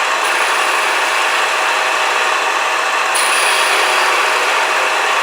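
A wooden bottle stopper spins on a lathe screw chuck while a gouge cuts it down, giving a steady, loud, continuous whirring hiss with no pauses or speech.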